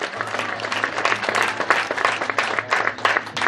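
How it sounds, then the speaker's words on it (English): At a political gathering of parliamentary aspirants in Uganda, a crowd claps in an uneven, swelling burst, with a faint low hum running beneath the applause. "Please clap for that Lukbara woman."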